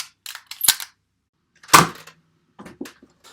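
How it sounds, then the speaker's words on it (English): A Beast Wars Optimus Prime toy fires its spring-loaded bomb cannons with two sharp plastic snaps about a second apart. Quieter clicks from handling the toy come before and after, all close up in an otherwise quiet room. "by pressing this button on the back, he launches his bomb cannons"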